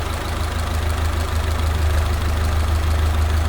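A 1931 Ford Model A four-cylinder engine with a downdraft carburetor idles steadily and smoothly, a low, even rumble heard close up with no other sounds.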